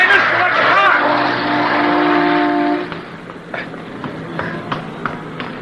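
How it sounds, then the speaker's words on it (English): A car speeds past in a live radio drama street scene, a loud rising-and-falling engine whoosh with a horn-like tone over the first three seconds, followed by faint crowd bustle and footsteps. "I thought sure you were going to get hit by that car"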